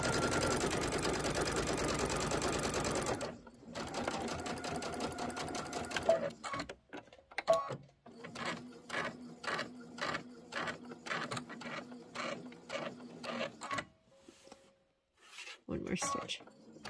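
A sewing machine runs steadily stitching a seam on a Kimberbell Peppermint Avenue bench buddy pillow, first in a long continuous burst, then in a series of short rhythmic runs with pauses.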